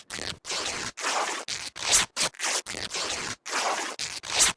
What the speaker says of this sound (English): let's take our boxers and cut those into rags as well